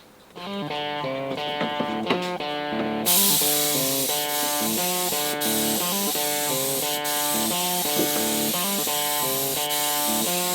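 A spray gun applies finish to a wooden Catalina Wherry rowing boat, its steady hiss starting about three seconds in and running continuously under prominent rhythmic music.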